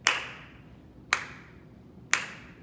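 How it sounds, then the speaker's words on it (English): Three sharp, single hand claps about a second apart, close and crisp with a short ringing decay, clapping along to instrumental gospel music. "Let's do some clapping."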